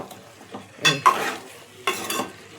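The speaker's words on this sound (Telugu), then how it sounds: "మంచిగా ఫ్రై కావాలి." Chicken frying in a pan and being stirred, with a few loud scraping, sizzling bursts and utensil clinks against the pan between quieter spells, close and without voices.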